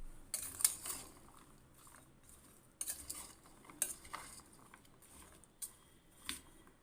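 Salt being stirred into a raw mango pickle mixture with a spoon, giving a string of soft scraping and clinking strokes against the bowl at an irregular pace, close and quiet, with no talking.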